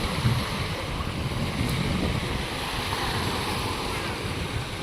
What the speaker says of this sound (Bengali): engine boat